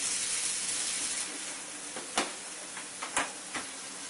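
Fresh water runs through a water ionizer's pump set in a basin, giving a steady hiss that fades slightly, broken by a few sharp clicks and ticks toward the end.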